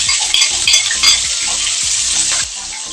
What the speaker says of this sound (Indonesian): Sekarang kita mulai menumis ya teman-teman. Masukkan dulu bawang merah,